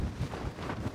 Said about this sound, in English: It's starting to get really windy out here.